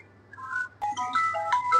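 A mobile phone ringtone plays a short, bright melodic phrase of quick rising and falling notes for an incoming call, close and moderately loud with no talking.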